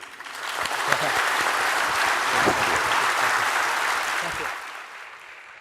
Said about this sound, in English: let's give a warm round of applause to Mr. Yeo